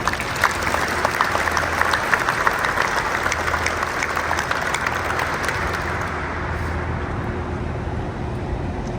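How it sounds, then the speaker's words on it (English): Steady, loud applause fills a change of command ceremony as the crowd claps continuously, a broad wash of hand claps that thins and fades slightly toward the end. "Let's give a big round of applause to all of them"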